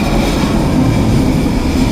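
A Mark 1 train moving through a rail yard toward the platform, giving a loud, steady rumble of wheels and carriages with no voices.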